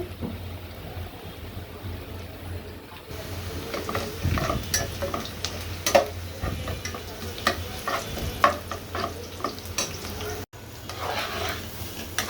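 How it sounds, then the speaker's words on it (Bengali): Pulao rice and lentils are stirred and fried together with fried onion paste for khichuri. A steady sizzle runs under repeated scraping and clinking strokes of the spoon against the pot, close and moderately loud, with no speech. "আমি পোলাওর চালটা খিচুড়ির জন্য দিয়ে দিচ্ছি, ডাল চাল একসাথে করে"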